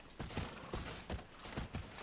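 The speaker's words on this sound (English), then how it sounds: "A horse!" Horse hooves clip-clop in the Dragon Quest XI video game, a brisk, steady run of close, loud hoofbeats with faint mechanical creaking, no voices.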